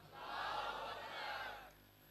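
Answering the takbir call, a crowd at a religious gathering in Tando Adam chants in unison, one sustained swell of many voices, distant and reverberant, lasting under two seconds before fading.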